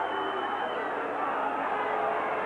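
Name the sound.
rugby crowd imploring the referee to blow the whistle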